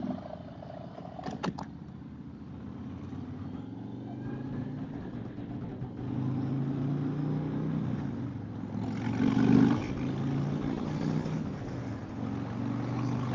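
A motorcycle pulling away down a new driveway on a chilly morning: a low, muffled engine rumble that swells as it rolls off, with a louder surge near the end.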